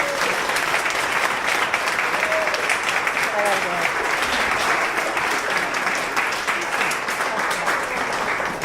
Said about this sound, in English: let's first give Kay a round of applause.